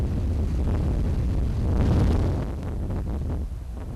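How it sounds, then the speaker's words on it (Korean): Strong wind blowing steadily along a West Sea coast fishing shore on a clear day, a continuous roaring rush that swells in a gust midway and then eases, with no voices. "다음 날 하늘은 맑은데 바람은 여전하다."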